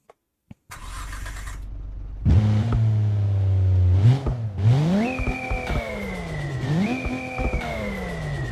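Holden VL or VN engine in BeamNG.Drive cranks and catches after a couple of faint clicks, then idles loudly and revs up and down several times with rising and falling pitch, close and alone with no talk.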